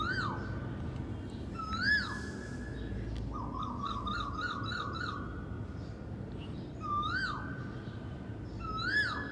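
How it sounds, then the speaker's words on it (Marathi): An Asian koel calls repeatedly, its rising whistled notes coming in spaced phrases at moderate distance over a low background hum, with another faint bird trilling between calls. "ह्याचा आवाज अतिशय मधुर असतो म्हणून कोकिळा म्हणून प्रसिद्ध आहे."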